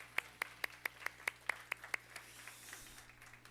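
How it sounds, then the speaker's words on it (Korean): Slow, evenly spaced hand claps from a church youth worship congregation, about ten distinct beats in steady rhythm, then tapering into softer scattered clapping. "다시 한번 하나님께 영광의 박수 올려드리겠습니다"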